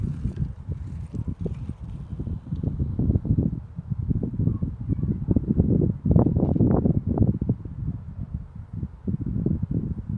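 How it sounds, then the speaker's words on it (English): Wind gusts buffet the microphone outdoors during a BMX flatland bike session, producing low, uneven rumbling bursts that rise and fall throughout, with no one talking. "It's getting a little windy"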